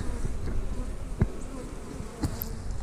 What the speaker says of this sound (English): really got a lot of bees in here